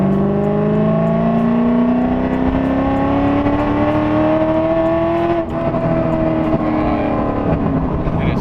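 A cammed C5 Corvette V8 pulls hard under load, its loud, raspy engine note climbing steadily in pitch, with a brief dip partway through before it keeps building. It is heard close up from inside the car.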